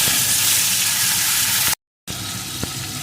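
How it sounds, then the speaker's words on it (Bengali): Turmeric-and-salt-rubbed hilsa fish pieces frying in hot mustard oil give a steady, loud hiss and sizzle that holds throughout, broken once by a brief silent gap, with a small pop near the end. "এখন আমি লবণ হলুদ মাখানো ইলিশ মাছের পিসগুলোকে দিয়ে প্রথমে ভেজে নেব"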